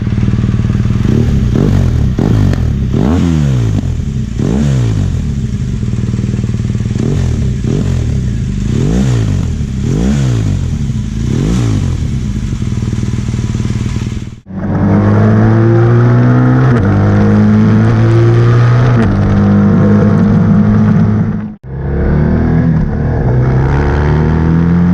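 A BMW R1200GS motorcycle fitted with an SC Project exhaust with the baffle removed revs loudly and repeatedly, rising and falling through the gears, then roars steadily nearby with brief gaps between bursts.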